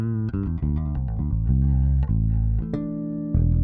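Ibanez bass guitar with its preamp tone control turned fully open, a run of plucked notes ringing out bright and close with sustained low tones, played alone with no talking.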